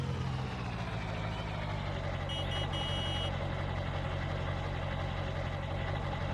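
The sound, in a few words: truck engine and reversing beeps in Farming Simulator 19 video game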